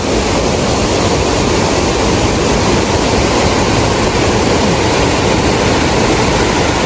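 Steady, dense roar of a small waterfall in the Langtang valley, an even wash of falling water that stays constant and close for several seconds with no voices.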